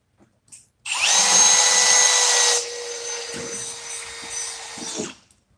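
A Ryobi 18V One+ cordless drill drives fasteners into wood in one long run: a loud high whine that drops to a lower, steadier pitch partway through before cutting off, with a few clicks around it.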